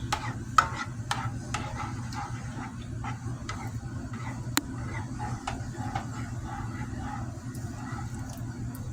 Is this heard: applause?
no